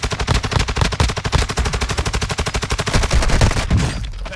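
Rapid automatic gunfire in Call of Duty: Modern Warfare II, a loud, sustained burst of closely spaced shots running nearly four seconds before cutting off into quieter battlefield ambience.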